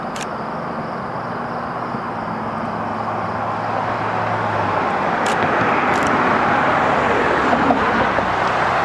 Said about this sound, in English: I do have a grouping of cars heading towards us.